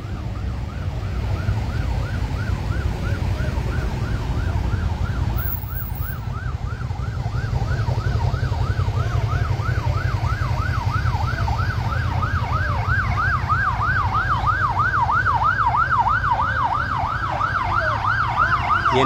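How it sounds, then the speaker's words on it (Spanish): An ambulance siren wails in a rising and falling yelp, steadily growing louder as it approaches a road accident scene in Tuxpan, Veracruz, over constant traffic rumble. "Ya viene la ambulancia."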